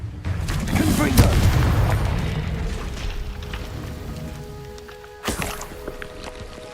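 A Confringo blasting spell explodes in Hogwarts Legacy with a deep, rumbling boom that slowly fades. A second, sharper blast hits near the end.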